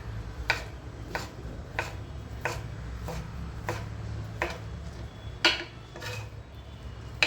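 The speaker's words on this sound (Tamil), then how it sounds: "இது நல்லா ரவுண்டாக இப்படி கட் பண்ணிவிடுங்க" A knife cutting peeled raw banana into round slices on a board for a South Indian fry, with about ten evenly spaced crisp taps over a low background hum, close and clear.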